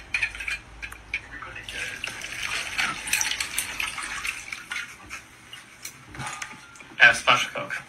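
Liquid splashes and trickles steadily into a glass as a shot of Sour Jerry's is poured, a continuous gurgling pour with a few brighter clinks near the end.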